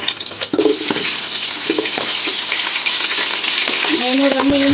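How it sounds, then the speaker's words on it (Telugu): Onions sizzling in hot oil in a pan for chicken biryani, with cinnamon, shahi jeera, cardamom and cashews already frying; a steady crackling hiss throughout with a few stirring clatters and brief high squeaks near the end. "కొద్దిగా వేగాక ఆనియన్స్ వేసుకుందాం."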